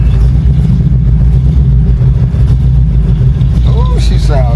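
A small-block Chevy engine fitted with a Holley electric fuel pump runs steadily and loud throughout, a constant low rumble with a brief high chirp near the end.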